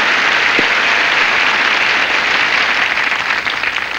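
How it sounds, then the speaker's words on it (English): Loud, dense applause from a television game-show studio audience at the opening of Tic-Tac-Toe, steady and sustained throughout, easing slightly near the end. "if I was going to give the applause award, that would be it"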